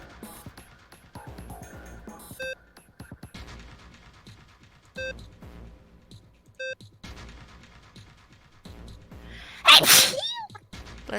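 A character in the 999: 9 Hours, 9 Persons, 9 Doors video game gives a single loud, sharp sneeze near the end, following quiet game music and a few electronic beeps.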